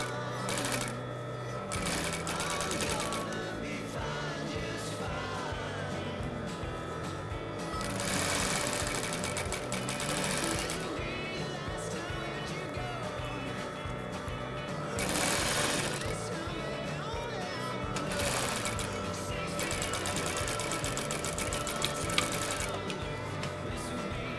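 A sewing machine stitches fabric in several fast whirring bursts separated by short pauses, running loud and close with mechanical clatter throughout and nobody speaking.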